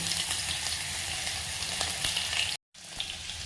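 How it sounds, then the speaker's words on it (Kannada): Mustard seeds, cumin and curry leaves sizzle in hot oil for a Karnataka batani gojju, a close steady crackle with small pops, broken by a brief silent gap before resuming. "ಕಾದಿರೋ ಎಣ್ಣೆಗೆ ಸಾಸಿವೆ ಜೀರಿಗೆ ಕರಿಬೇವನ್ನ ಹಾಕ್ಕೊಳ್ಳೋಣ"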